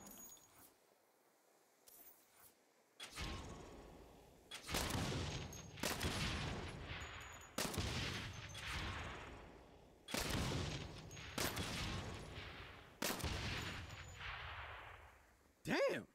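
Gunfire from the video game Saints Row rings out in loud bursts of rapid shots, roughly six separate volleys each followed by a short echoing tail, with quiet gaps between them.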